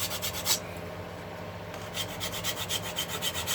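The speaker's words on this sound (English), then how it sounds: "I actually scratch the surface of the fretboard up so you get a better key for the glue." A guitar fretboard on a 1958-style Flying V build being scratched up by hand to key it for glue, a close, steady rasping rub with rhythmic strokes, loud and alone.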